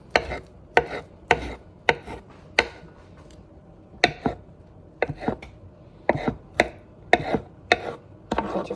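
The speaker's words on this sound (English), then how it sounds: "Cut them however you want" Dill pickles being chopped with a knife on a board, a series of sharp, distinct chops in an uneven rhythm with brief pauses between bursts.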